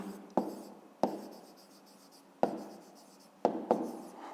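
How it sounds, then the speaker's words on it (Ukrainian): Pen writing an answer in a school exercise book for a fifth-grade maths problem: short scratchy strokes with a few sharp pen-down taps, close and quiet, with no voices. "а тепер записуємо відповідь"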